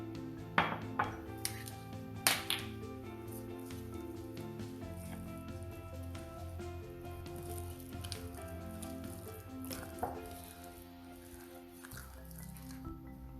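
Wet, squishy stirring of chocolate brownie batter with milk in a bowl, steady sloppy mixing with occasional clinks of the utensil against the bowl.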